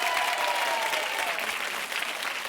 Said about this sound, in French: On applaudit fort Sandrine